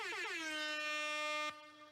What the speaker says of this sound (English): you give yourself some air horns